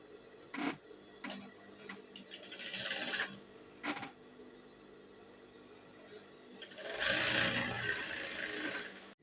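Sewing machine stitching panels for a twelve-panel gown, in short mechanical bursts and ticks with a longer run near the end, fairly quiet and close.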